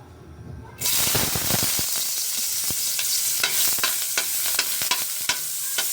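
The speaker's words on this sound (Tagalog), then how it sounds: "igisa mo natin yung ating luya" Ginger sautéing in a pan for home-cooked chicken sinigang, with a sharp sizzle that starts abruptly and then holds a steady hiss under repeated stirring clicks and scrapes.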